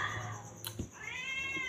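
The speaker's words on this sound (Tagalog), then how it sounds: "Yung pusa namin humihingi na guys." Drawn-out cat meows, a couple of wavering calls, close and moderately loud over steady background noise.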